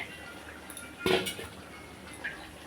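Meat with garam masala being stirred in a pot, one short burst of metal spoon scraping and clinking, followed by a quieter tap, close and fairly faint.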